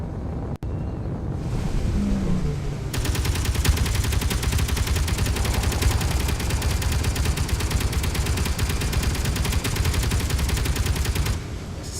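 Rapid aircraft gunfire during a strafing run in Space Engineers, a dense, fast rattle of shots over a loud roar of wind and engine, continuous for several seconds and then cutting off.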